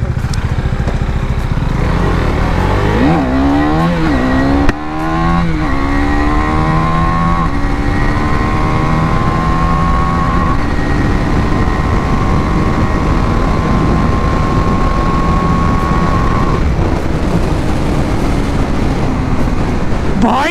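A KTM Duke 390 BS6 motorcycle is pulled hard through its gears to the limit in fifth. The engine note climbs repeatedly, then holds a loud, sustained high-revving drone under heavy wind rush and no speech.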